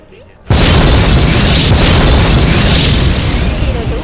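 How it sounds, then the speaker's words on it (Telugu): A sudden, loud blast erupts after half a second of quiet and settles into a dense, roaring rumble that holds for several seconds, suggesting powerful bombs detonating near Lumbini Park by Hussain Sagar in Hyderabad. "శక్తివంతమైన బాంబులు పేలాయి"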